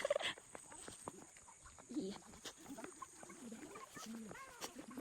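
A bird calls outdoors in a rural Ifugao setting, giving a few short, fairly clear chirps and warbling notes among soft background ambience and faint voices.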